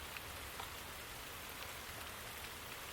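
Steady rain falls on a surface, a dense even patter of countless drops continuing without pause, moderately loud and close, with no voices.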